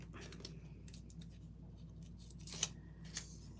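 Scissors trim a small paper piece for a handmade card, a few quiet close snips and paper rustles, with one sharper cut standing out near the end.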